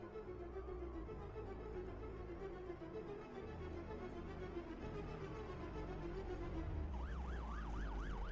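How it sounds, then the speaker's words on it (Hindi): A police car siren wails continuously and fairly loud, its rising and falling tone sweeping repeatedly, with traffic rumble underneath and the wail becoming sharper toward the end. "पुलिस की गाड़ी आ रही है, जल्दी।"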